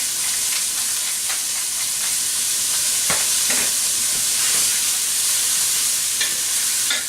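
Vegetables sizzle steadily in a pan with a little olive oil, a loud continuous frying hiss with occasional stirring scrapes close by, and no talk.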